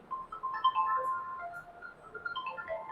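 A phone ringtone plays a short electronic melody of bright beeping tones, moderately loud, with no one speaking over it.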